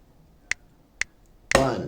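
Triplet subdivisions at 40 beats per minute are sounded as sharp, evenly spaced clicks half a second apart. Three clean ticks play before a louder, fuller hit or voice enters at the end.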